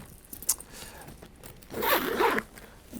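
A zip pocket on the front of a briefcase being unzipped: a brief tug, then one longer, louder raspy zipper run up close, alone with no talk.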